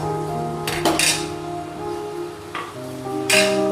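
Bay leaves and dried chillies being stirred in a cooking pot for a spicy paneer curry, a few metallic clinks and spoon scrapes against the pot over a steady low hum.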